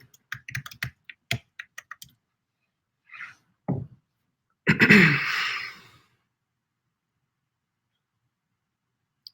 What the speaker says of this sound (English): So I'll just type my password for my SSH key.